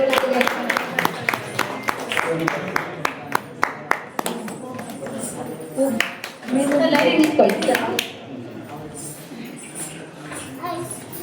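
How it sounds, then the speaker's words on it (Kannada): An audience at an Ugadi celebration claps to cheer performers, a burst of sharp hand claps and applause that thins out, with talk and crowd murmur around it. "ಎಲ್ಲರೂ ಚಪ್ಪಾಳೆ ತಟ್ಟಿ ಪ್ರೋತ್ಸಾಹಿಸಬೇಕಂತ ಹೇಳಿ"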